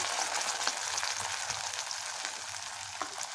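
Ground pandhra rassa masala paste for Kolhapuri mutton frying in a hot pan, giving a continuous bright sizzle with soft stirring scrapes and no talk.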